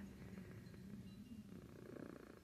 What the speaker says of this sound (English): big purr